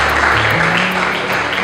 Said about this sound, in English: You go a round of applause for her.